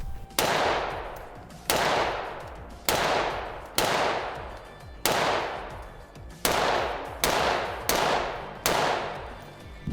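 Gunshots fired at a target outdoors about 25 to 30 yards away, from a weapon fitted with a light and visible laser: eight loud, sharp cracks, unevenly spaced, each ringing out in a long decaying echo, with no talking.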